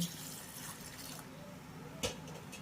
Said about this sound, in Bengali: এবার আমি এই আঙুরগুলোকে জল দিয়ে খুব ভালো করে ধুয়ে নেব